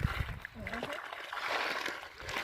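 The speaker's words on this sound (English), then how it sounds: "Filling this thing up with water." Water sloshes and splashes while filling a duck pond under construction outdoors, a steady wet trickle with brief splatters, with voices talking over it.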